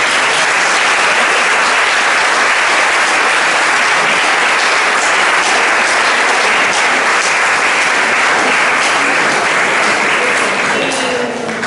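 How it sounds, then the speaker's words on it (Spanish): Sustained audience applause at a science café talk about umami, dense and steady for its whole length, loud and close with no voices above it. "Os pido otro aplauso para él."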